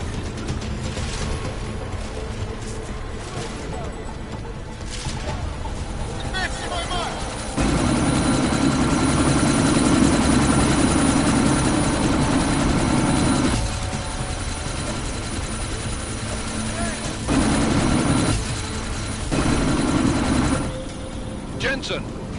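A helicopter in the video game Deus Ex: Mankind Divided gives off a steady rotor and engine roar that swells louder partway through, with urgent voices talking over it.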